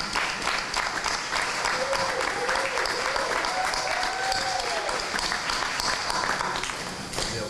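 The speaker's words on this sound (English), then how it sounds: "Let's give him a round of applause." Sustained audience applause fills a town hall meeting of a board of education, dense steady clapping from a sizable crowd held at an even level throughout, with a faint tonal sound running underneath.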